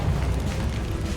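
Incendio fire spell cast in Hogwarts Legacy, a steady roaring whoosh of flame with a low rumble, loud and continuous with no pause.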